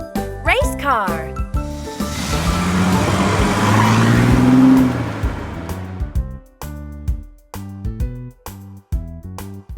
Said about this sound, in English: Race car.